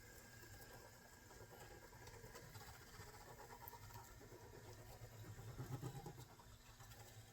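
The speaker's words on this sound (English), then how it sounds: "Now you may hear some noise, feedback, and a little gear whine. This is a brand new locomotive" A brand new ScaleTrains Big Blow locomotive in model scale runs steadily, giving a continuous low motor hum with faint gear whine and electrical noise, swelling slightly louder near the end.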